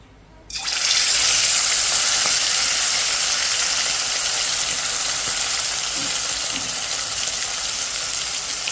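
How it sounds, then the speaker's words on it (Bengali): Chicken pieces dropped into hot oil in a pan burst into a loud, steady sizzle that starts abruptly and holds strong and close throughout, with no speech. "তেলটা গরম হয়ে গেছে এবার আমি আস্তে আস্তে চিকেনগুলোকে ছেড়ে দেব"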